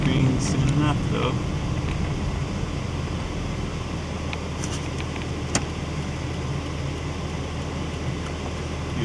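A 1982 Toyota Corolla TE72 cruising on the highway gives a steady, loud wash of engine drone and road and wind noise that holds constant throughout, with a few faint higher clicks and rattles on top.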